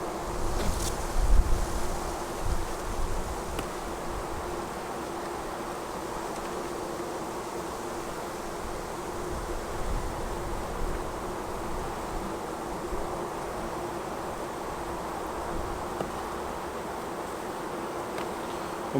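A steady, dense hum of many honeybees buzzing close by around a poly hive, continuous and unbroken, with some wind rustle in the background.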